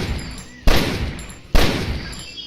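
Two sharp pistol shots in a video game, spaced about a second apart, each a loud close crack with a short ringing tail over a quiet background hum.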